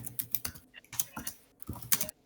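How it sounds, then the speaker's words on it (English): Computer keyboard typing picked up over an online voice call, with irregular bursts of sharp key clicks close to the microphone, some quick runs and a few pauses. "We can hear your keyboard."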